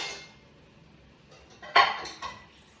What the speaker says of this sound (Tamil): இப்போ கரண்டி எடுத்துட்டு வந்து மிக்ஸ் பண்ணி